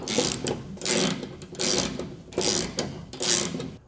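A spare tire is lowered from under a 2026 Chevrolet Colorado with a removal rod, giving a repeated ratcheting, mechanical cranking sound in five steady bursts, close and clear.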